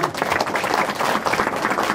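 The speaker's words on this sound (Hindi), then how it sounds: "तालियों के साथ स्वागत करें।" Steady applause from a crowd at a religious gathering welcoming saints, dense clapping that holds at an even level throughout with no voices on top.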